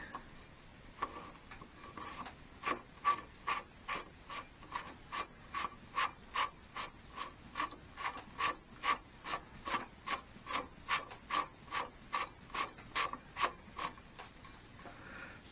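An alternative air filter is screwed onto a Triumph Bonneville, giving a long series of evenly spaced rasping, ratcheting twists, close and moderately quiet, about two per second.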